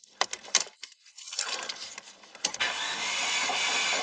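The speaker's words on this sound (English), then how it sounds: "Let's give it 8 movements of the starter motor." A Mercedes Sportcoupe's starter motor cranks the engine during a compression test, a few clicks and jangles followed by a rising whirring crank that settles into a steady, fairly close drone.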